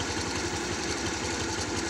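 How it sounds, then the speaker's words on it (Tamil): TVS Wego scooter engine idling after a carburetor cleaning: an even, close, continuous putter with a fast steady pulse and no voices. "வண்டி வந்து ஸ்டார்ட் ஆகிடுச்சு பார்த்தீங்கன்னா"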